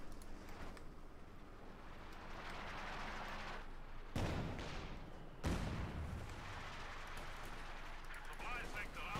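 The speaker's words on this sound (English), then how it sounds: "mortar continues to fire away there" Mortar fire in the Company of Heroes 2 video game: a couple of sharp, booming blasts over a busy battle din with scattered shots, fairly faint overall.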